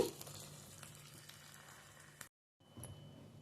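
Close, steady crackling sizzle of hot oil tempering, then a sudden cut to silence before a quieter sizzle resumes as it goes into raw mango stew.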